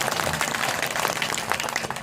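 An audience at a Hindi hasya kavi sammelan comedy poetry event claps continuously, a dense, even patter of applause filling the whole moment without talk.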